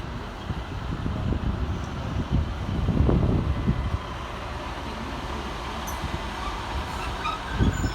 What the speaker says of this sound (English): Arriving next into the station is 150-217, working the 1500 Transport for Wales service from Aberdare